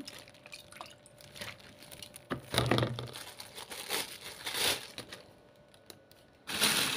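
Plastic bags holding turnips in homemade pickling brine are squeezed to push the air out, giving close crinkling and a few liquid drips and sloshes with brief louder crumples, no talk.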